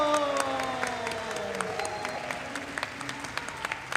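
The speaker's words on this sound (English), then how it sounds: "please continue your applause for the man who makes the sound happen for us every ukulele club" Applause from a ukulele club audience for their sound engineer, a broad crowd patter that begins fairly full and thins toward scattered claps, with a faint sustained tone lingering underneath at the start.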